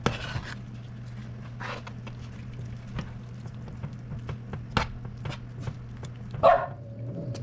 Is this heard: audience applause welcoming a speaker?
no